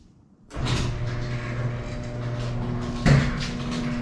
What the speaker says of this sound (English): Garage door goes.